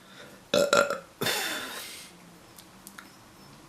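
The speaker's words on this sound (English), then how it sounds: "swimming makes you burp" A loud, close burp after swimming, starting with a short gulping onset and then a longer, rough, drawn-out belch, followed by faint breathing.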